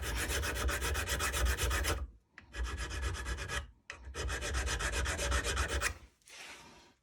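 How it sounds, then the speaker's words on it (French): A hand file rasping back and forth on a small metal ignition timing key for a Yamaha DTR 125, long, loud, close strokes in three bursts separated by short pauses, ending with a fainter scrape. "Petit coup de lime quand même."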